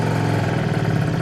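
MBK Rocket moped engine idling steadily and loudly up close, a continuous buzzy putter with no talking.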